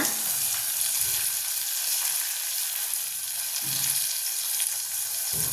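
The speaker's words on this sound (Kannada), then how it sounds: "ಈಗ ಈರುಳ್ಳಿ ಮತ್ತು ಟೊಮೊಟೊ ಹಾಕಿದ್ದೀನಿ ಅದು ಸ್ವಲ್ಪ ಮೆತ್ತಗಾಗೋದೇ ಬೇಯಬೇಕದು" Onion and tomato fry in a pan with a dense, even sizzle that holds steady throughout, close by and with no voices.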